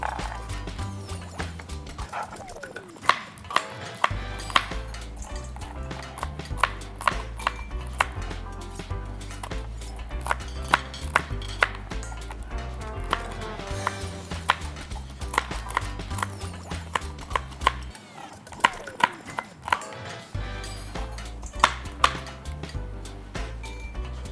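A knife chops pistachios repeatedly on a wooden board, quick irregular taps near the listener, with music playing steadily underneath.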